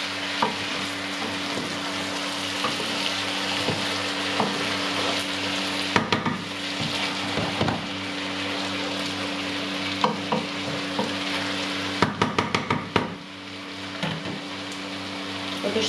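Rice with pumpkin and onion sizzles in a pan for risotto, a steady close frying hiss broken by repeated spoon scrapes and clacks against the pan, with a quick cluster of knocks near the end.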